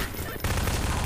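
Rapid gunfire from the Half-Life 2 video game erupts as a dense, loud burst after a brief lead-in, continuing steadily to the end with no pauses.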